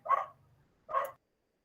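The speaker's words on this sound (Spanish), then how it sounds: "es la bulla de los perros" Two distinct dog barks, spaced about a second apart, moderately close and sharp, with quiet between them and no talking.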